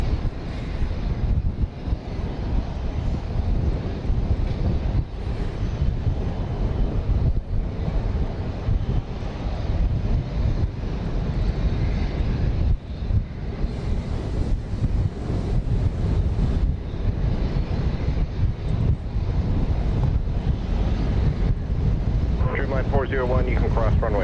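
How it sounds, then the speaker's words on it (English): Boeing 737-800 airliner on flight 2097 from Phoenix at Dallas Love Field, a steady loud engine roar mixed with heavy wind buffeting the microphone throughout. "This is going to be flight 2097 from Phoenix, 737-800."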